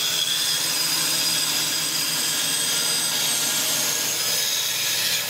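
A bandsaw makes a series of relief cuts into a board at roughly quarter-inch spacing, giving a steady, loud blade whine with broadband cutting noise that holds continuously through the clip.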